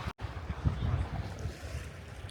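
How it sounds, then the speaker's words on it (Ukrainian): Small waves lap at the water's edge in a soft, continuous wash, heavily mixed with gusty wind buffeting the microphone and a brief dropout near the start. "І мені так подобається, що тут хвильки"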